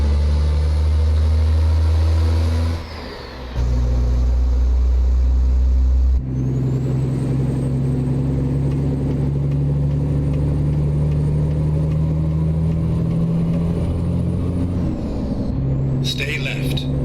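International LoneStar truck in American Truck Simulator, a steady droning engine hum with road roar that shifts pitch as it changes gear, an air hiss midway and a brief clatter near the end.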